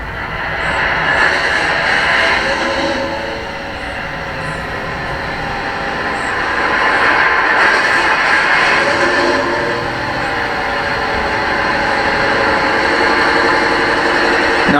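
A model Class 55 Deltic diesel locomotive, D9002 'Kings Own Yorkshire Light Infantry', starts up and settles into a loud, continuous engine drone that swells and eases over about fifteen seconds, with no talking.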